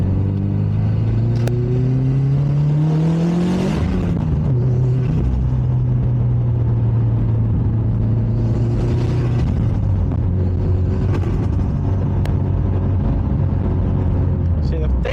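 Subaru WRX with external wastegates and a front-mount setup climbs a hill under load, its engine note rising and then holding a steady droning pitch, with loud continuous rumble throughout and a voice talking over it.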